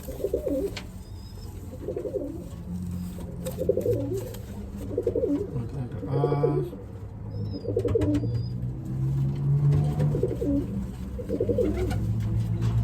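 Homing pigeons, including blue Hughes birds, coo repeatedly in a low rolling rhythm close by, with a few faint higher chirps and rustling; someone speaks briefly.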